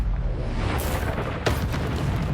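Confringo spell blasts in Hogwarts Legacy, a dense close booming burst followed by a second sharp impact about a second later, all loud and full-bodied.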